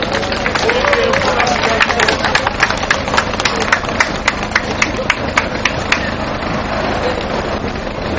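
Applause from a crowd at an outdoor protest rally and sit-in, steady continuous clapping with crisp individual claps standing out over a busy background hum.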